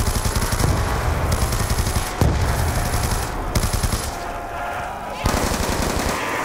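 Rapid automatic gunfire from a weapon in Call of Duty: Black Ops 2 Zombies pours out in loud, continuous bursts with brief pauses, dense and close, filling the whole stretch.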